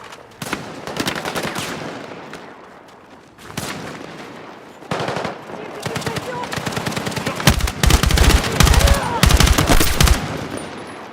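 Sustained automatic gunfire and bursts of shots from the video game Battlefield 6, loud and close, building into dense rapid volleys toward the end.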